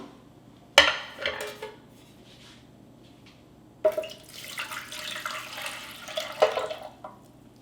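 A cup of warm water poured into a metal bread machine pan, a clatter of the pan at the start followed by several seconds of splashing and a second pour.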